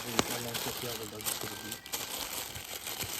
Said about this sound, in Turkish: Şimdi alüminyum folyo getir